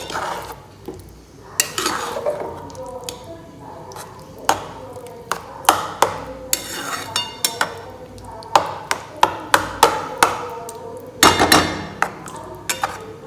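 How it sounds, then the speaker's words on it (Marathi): A masher repeatedly strikes a metal pan while cooked pav bhaji vegetables with beetroot paste are mashed. The sharp, close clanks and thuds come in uneven bursts, with a soft squelch between the hits. "मी स्मॅश करून घ्यायची भाजी"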